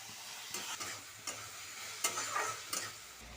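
Moong dal pulao is stirred in a pan, giving a faint, quiet sizzle broken by a handful of light scraping strokes at irregular intervals, with no talking.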